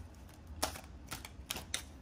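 A glossy oracle deck of cards being shuffled, giving four quick, crisp riffling bursts spaced unevenly over two seconds, close and fairly quiet with no talking.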